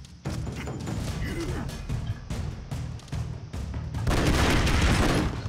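Rapid gunfire and explosive blasts from the Broforce action game fill the stretch, a dense, loud barrage of shots and booms that swells near the end, with a player's voice faintly mixed in.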